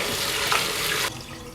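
Soaking water drained off purple rice with lentils rushes out in a steady close splashing stream for about a second, then cuts to a quieter trickle.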